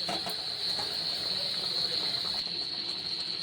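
Egg manchurian balls boil in a pan of water, giving a steady bubbling hiss that holds evenly from start to end with no voices.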